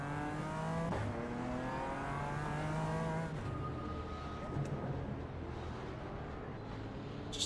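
GT4 race cars at Charlotte in iRacing, a pack of Mercedes, BMWs, a Mustang and a McLaren, droning and revving together in a steady loud engine roar with shifting pitch throughout.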